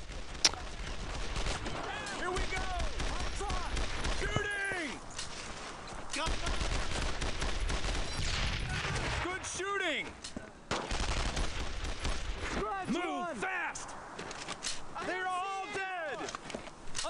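Repeated rifle and machine-gun fire in a Brothers in Arms: Road to Hill 30 battle, continuous clattering shots with whip-like cracks throughout and voices talking over the combat.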